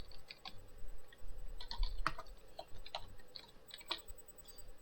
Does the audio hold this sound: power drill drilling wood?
no